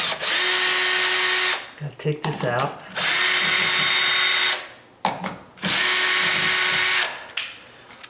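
A power drill backs screws out of a door hinge in three loud, sustained whirring bursts separated by short pauses, with someone talking during the gaps.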